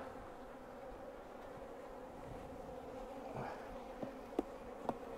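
Honey bees hum steadily across a full hive packed with nearly capped honey, a dense continuous drone with a few brief sharper buzzes of single bees passing close near the end.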